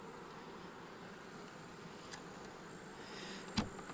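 Honey bees buzz around the frames of a hive, a faint, steady drone heard close by with a couple of sharp brief clicks and no talking.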